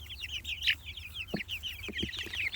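Young meat-breed chickens peep and cluck in quick, high, overlapping bursts at close range, with a few soft lower clucks and thumps scattered among the chatter.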